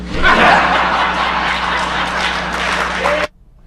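Audience applause on a talk radio broadcast, steady dense clapping with some laughter mixed in, holding for about three seconds before cutting off abruptly.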